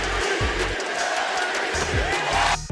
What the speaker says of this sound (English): Holmes received MVP chants from the faithful Golden One Center crowd in a recent game against the Memphis Grizzlies